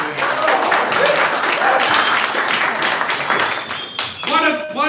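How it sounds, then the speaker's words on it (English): Audience applause at a comedy show, a dense steady wash of clapping that holds loud for most of the stretch before thinning near the end, with voices and a brief whistle or cheer mixed in. "Thanks for a round of applause there."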